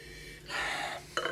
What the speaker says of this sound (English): Let's give it a whirl. And a sniffy sniff.